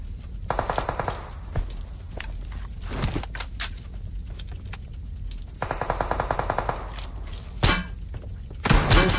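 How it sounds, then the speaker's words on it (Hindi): Gunshots in the mobile battle royale BGMI ring out in sharp, loud bursts of rapid automatic fire separated by short pauses, with single cracks between the volleys and a final cluster of shots near the end. "शॉट कहां, पता नहीं शॉट कहां से आ रहे हैं"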